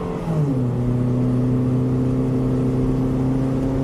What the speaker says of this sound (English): go, full throttle. Let's see if it runs